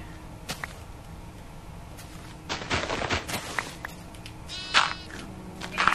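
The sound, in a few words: sheep bleating in a video game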